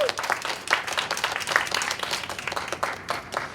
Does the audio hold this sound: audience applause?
yes